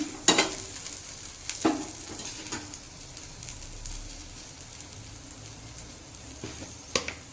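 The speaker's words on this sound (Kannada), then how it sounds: "ಈಗ ನೋಡಿರಿ ಎಲ್ಲ ಚೆನ್ನಾಗಿ ಫ್ರೈ ಆಗೈತೆ." Vegetables fry with a steady sizzle in a pan while a utensil scrapes and stirs them, sharp clacks landing near the start, around 1.6 seconds and at the end, close and moderately loud with no talking.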